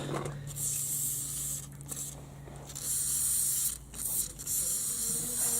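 Penetrating oil sprayed from an aerosol can while removing a rusty brush guard from a Chevy Blazer, a close steady hiss in long bursts with short breaks between, no talk.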